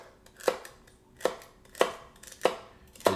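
Fresh celery chopped with a Tuo Legacy Series kitchen knife on a board, five crisp, evenly spaced cuts with short pauses between, close and clear with no talking.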